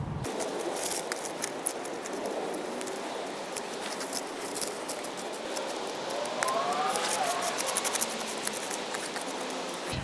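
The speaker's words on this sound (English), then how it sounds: "We just take our pruners and just cut them all the way back." Garden pruners snipping back dead sedum stems outdoors, a scattering of soft, crisp clicks and rustles over steady background noise, fairly close.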